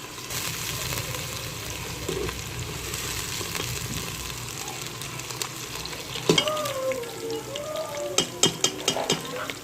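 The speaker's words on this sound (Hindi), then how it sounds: "प्याज और मिर्चें हमने इकट्ठे डाल दिए हैं, और इसका कलर चेंज होने तक हम इसे बराबर चमचा हिलाएंगे।" Onions and green chilies fry in hot oil while a spoon stirs them, giving a steady close sizzle with scraping clinks of the spoon against the pan, growing more pronounced toward the end.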